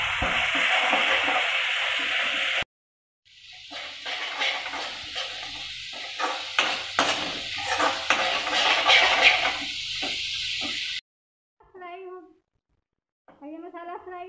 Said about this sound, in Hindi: ये मसाला फ्राई हो गया है